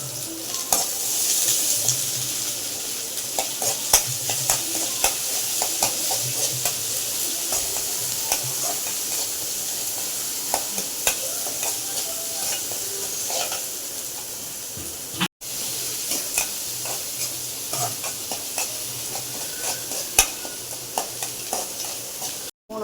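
Steady sizzling and frying of shallots, curry leaves and green chillies in a hot pan with occasional stirring scrapes, continuous and fairly loud throughout.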